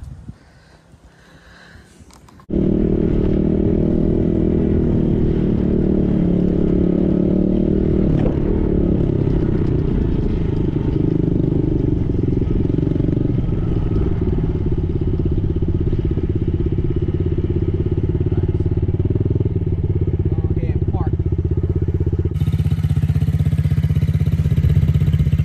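A Yamaha dirt bike, a small PW-50 or TTR-110 ridden by a young rider, rolls in with a steady engine drone that holds loud and close for over twenty seconds after a brief quiet start, ending in idle.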